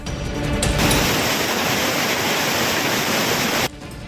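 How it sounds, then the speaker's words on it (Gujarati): Heavy monsoon rain runoff pours like a river down the temple steps on Pavagadh hill, a loud, dense, continuous rushing roar that fills most of the moment and then cuts off abruptly near the end. "પાવાગઢ ધામના પગથિયા પર નદીની જેમ ધોધ વહેવા લાગ્યો હતો."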